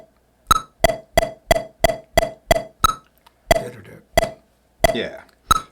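A steampunk metronome ticks out the rhythm of a song, sharp clicks in an uneven grouping of 4/4 paired with 7/8, fairly soft and close with small gaps between phrases.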